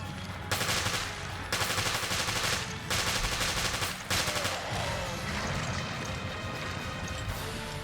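Bursts of machine gun fire in Resident Evil Revelations Raid Mode, Abyss 7 Terragrigia, loud rapid strings of shots in several runs separated by brief gaps, with dense game noise and clatter continuing after.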